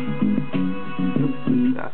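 A short hip hop sample loaded into Recycle software plays back as a looping groove, with repeated rhythmic hits over sustained tonal layers, moderately loud and with no one talking over it.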